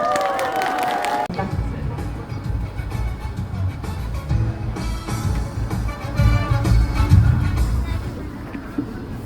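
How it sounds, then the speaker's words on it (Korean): Audience applause at an outdoor opening ceremony for a theme street in Jeomchon, Mungyeong, rising as a steady patter of clapping after a brief spoken announcement, with a low murmur of the crowd underneath. "큰 박수 부탁드립니다."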